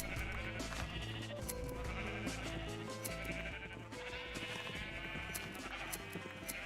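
Sheep bleat repeatedly in Minecraft, a near, steady chorus of overlapping game bleats that keeps going without a break, with no talking.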